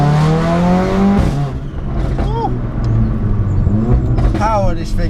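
Mercedes A45 AMG stage 2 tuned to 440 bhp, heard from inside on a ride along: a steady engine drone with exhaust crackle on overrun and deceleration, while people talk over it throughout.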